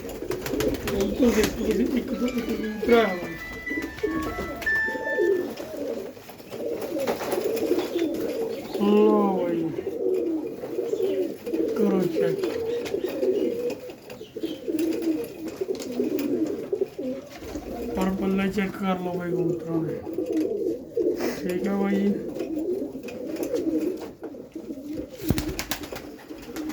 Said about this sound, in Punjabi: ਬਾਕੀ ਸਾਰੇ ਉੱਡਣ ਵਾਲੇ ਕਬੂਤਰ ਹੈਗੇ